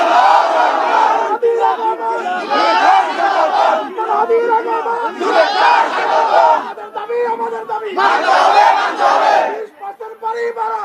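Crowd of protesters at a teachers' rally chanting slogans in loud rhythmic bursts, many voices shouting together in repeated phrases with brief pauses between, close and forceful.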